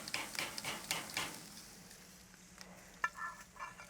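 Lemongrass pork chops sizzle on a barbecue flame, a soft steady crackle under scraping and shifting of meat on the grill, with a few sharper clicks toward the end.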